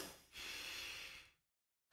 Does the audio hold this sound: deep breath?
yes